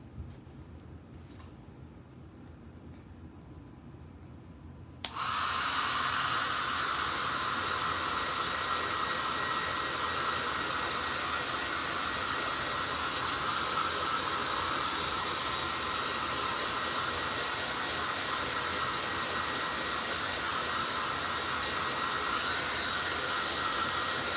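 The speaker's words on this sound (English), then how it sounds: "Hair dryer." After a few seconds of quiet, a hair dryer switches on abruptly and runs with a loud, steady whooshing hiss for the rest of the clip.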